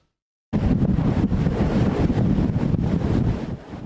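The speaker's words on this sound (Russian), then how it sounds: "Мощные порывы ветра буквально валят людей с ног." Loud, roaring gusts of Storm Andrea wind in coastal Ostend, Belgium, buffet the microphone continuously, a dense rushing blast that eases slightly near the end.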